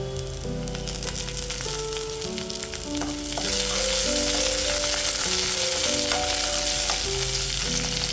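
Garlic, curry leaves and onion fry in a pan with a steady crackling sizzle, stirred now and then with utensil clinks, and the sizzle grows louder partway through; no one speaks.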